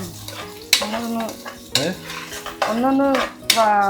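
Prawn biryani mixture is stirred in a pan with a metal spoon, producing scraping clatters and light sizzling, close and steady, with a few louder knocks against the pan side.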